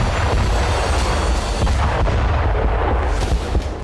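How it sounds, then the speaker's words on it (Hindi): A loud, rumbling explosion at a missile base in Iran, with a dense low-end roar that rolls on for several seconds, followed by crackling debris and a slowly fading boom. "ईरान के आसमान में अचानक कुछ ड्रोन दिखाई दिए और फिर जोरदार धमाका हो गया"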